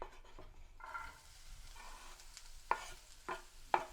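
Onion sautés quietly in leftover bacon fat with a little salt, a soft low sizzle broken by faint stirring scrapes and a couple of sharper utensil clicks against the pan.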